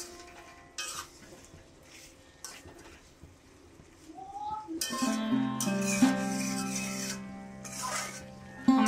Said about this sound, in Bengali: পটলটা দিয়ে সুন্দর করে কষাতে হবে